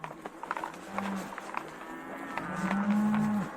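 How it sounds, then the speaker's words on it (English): Upset cows moo loudly in the open countryside, several drawn-out calls with a long final bellow, mixed with scattered clatter and rustling nearby. "Those cows are upset."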